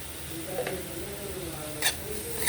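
Coriander powder and cumin being stirred in a hot frying pan, a soft scraping stir over a faint steady sizzle, close and brief with two light clinks.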